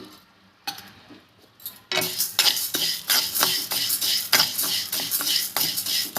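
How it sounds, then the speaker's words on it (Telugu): Toor dal being dry roasted in a pan without oil, quiet at first, then a steady run of rattling, scraping stirs and clinks of lentils against the pan that carries on to the end. "అయితే కందిపప్పుకి ఆయిల్ వేయకూడదు, ఆయిల్ వేయకుండానే వేపుకోవాలి"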